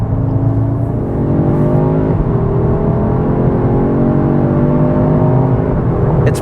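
A 2022 Audi S3 compact performance car accelerating hard, loud steady engine drone rising through the revs with a brief shift dip, heard from inside the car without talk.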